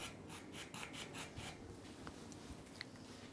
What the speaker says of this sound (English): slowly kind of rocking the blade this direction towards the edge of the binding, and just until it scrapes it smooth like that